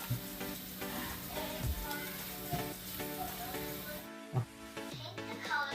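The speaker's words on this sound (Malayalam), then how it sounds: "ബാക്കിയുള്ള സവോള നമുക്ക് ഇതുപോലെ തന്നെ ഒന്ന് ഫ്രൈ ചെയ്തെടുക്കാം." Sliced onions fry in a pan with a steady, dense sizzle and crackle. Occasional stirring knocks are heard, and the sizzle briefly drops out near the end before resuming.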